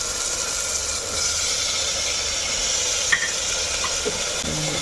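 Mutton keema stirred and fried in a pan for Ramzan rice porridge: a loud, even sizzle with faint scraping of a spoon and a small clink near the end, no talking.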